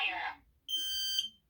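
A carbon monoxide alarm, model I-9040, speaks a brief synthetic voice warning and then gives one long, shrill electronic beep. Both sound loud and close.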